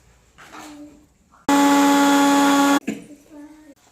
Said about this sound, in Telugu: కలుపుకున్న తర్వాత ఈ మిశ్రమాన్ని మళ్ళీ ఒకసారి మిక్సీ పట్టుకోవాలి.